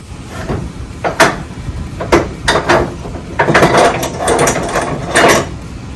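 A ratchet strap is cranked tight over a truck load, making repeated clicking ratchet strokes in uneven bursts, close and fairly loud against steady background noise.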